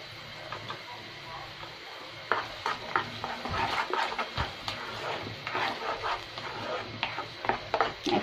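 Spice paste with ginger-garlic paste and salt frying in a pan while being stirred, a soft sizzle broken by irregular scraping and clinking of the spoon against the pan.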